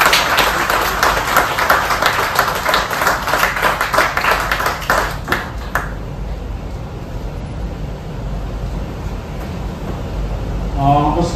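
Audience applause at a naturopathy national conference in Patna, loud dense clapping for about six seconds, then a quieter room with faint murmur and a brief voice at the end.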